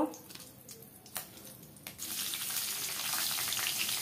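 Dried red chilies drop into hot oil for pointed gourd curry, and a bright, loud sizzle bursts in midway after a few quiet clicks, then holds steady and close.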